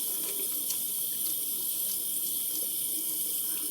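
Warm water runs steadily from a bathroom tap, an even close hiss and splash with no pauses, used for wetting the face.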